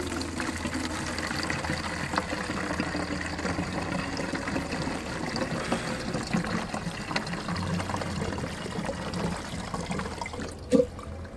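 A litre of fuel pours through a small funnel into a container for mixing two-stroke fuel for a Demon RQ 580 brushcutter, giving a steady close liquid gurgle and trickle that ends with a small knock.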